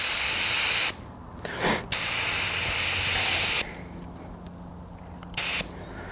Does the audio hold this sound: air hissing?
yes